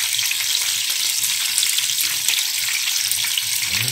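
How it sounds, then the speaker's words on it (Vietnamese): Pork belly marinated with galangal and fermented rice sizzles hard in a frying pan with a little fat, a loud, dense, steady crackle of hot oil heard up close with no voices. "bắt đầu chiên cho vào chảo rán"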